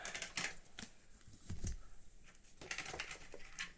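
An 8BitDo retro mechanical keyboard being typed on, with bursts of crisp clacking keystrokes in quick clusters, close and distinct, separated by short pauses and a heavier thump midway.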